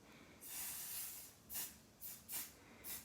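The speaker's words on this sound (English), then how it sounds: "sorry to everyone that hates to spray the glue right on the hoop" Spray glue hisses onto an embroidery hoop in one long burst followed by four short, close, quiet spurts.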